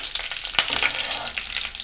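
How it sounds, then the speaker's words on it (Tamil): Mustard seeds crackle and pop in hot oil in a pan, giving sharp, scattered bursts over a continuous close sizzle. "கடுகு பார்த்திங்கன்னா நல்லா வெடிக்க ஆரம்பிச்சிருச்சுங்க."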